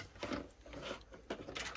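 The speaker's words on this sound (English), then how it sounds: "the printer will automatically dock the head right into the capping station" An Epson printer, a Stylus Pro 3880/3800 or SureColor P600/P800 type, powers on and docks its print head into the capping station with a run of close mechanical whirs, clicks and gear movements in several bursts.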